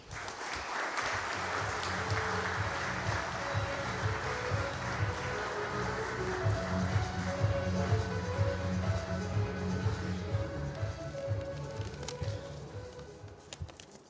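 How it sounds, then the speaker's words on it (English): A hall audience gives Mr. Nadir Godrej a big round of applause at an anniversary celebration, steady sustained clapping over a low musical backing for the full length. "you can give him a big round of applause"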